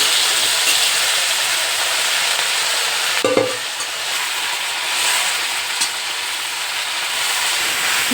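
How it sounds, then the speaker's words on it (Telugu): Gongura leaves dropped into a wok of hot oil for pickle, a loud steady hiss and sizzle with a brief clatter of stirring partway through; no speech. "నూనె బాగా హీట్ అయిన తర్వాత మనం ముందుగా శుభ్రం చేసి పెట్టుకున్న గోంగూరని వేసుకోవాలి"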